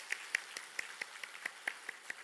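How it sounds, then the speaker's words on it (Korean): A church congregation claps for volunteer teachers, about ten sharp, evenly spaced claps from a small group, fairly faint and slightly distant, with no speech over the clapping. "교사로 수고하고 있는 우리 분들을 향하여서 우리 큰 박수로 한번"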